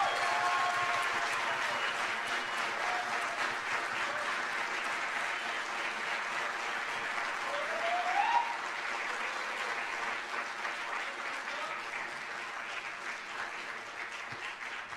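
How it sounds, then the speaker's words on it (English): A concert audience gives sustained, even applause to big band musicians, a steady wash of many hands clapping at moderate distance, with a brief whoop partway through. "let's give another round of applause for our wonderful musicians."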